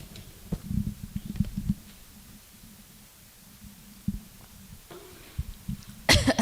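A lecturer with an itchy, overused throat coughs a few muffled times during a talk on urban parks, against a low room hum, with a sharper burst near the end.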